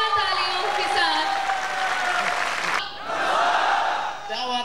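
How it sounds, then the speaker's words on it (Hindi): A large convention audience applauds and cheers loudly in a dense, continuous wash, with a short dip near the end. Voices shout within the crowd noise. "अ वेरी बिग हैंड, जोरदार तालियों के साथ।"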